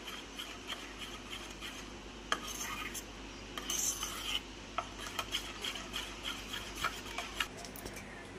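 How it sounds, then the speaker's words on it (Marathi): A spoon works oil into wheat flour cake batter sweetened with jaggery, giving soft repeated scraping and rubbing strokes against the bowl. The strokes are quiet and uneven, with a few sharper taps. "मी हे ते 4 चमचे मोजून घेतलेले आहेत ते यामध्ये घालणार आहे आणि याला एकजीव करून घेणार आहे"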